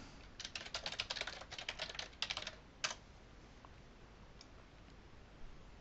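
A web address is typed on a computer keyboard as a quick run of close key clicks in short bursts, then a single tap and quiet.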